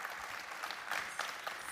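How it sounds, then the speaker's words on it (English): Quiet, distant applause from a conference audience at a tech-for-good panel, a brief even patter of many hands clapping. "Big round of applause, everybody."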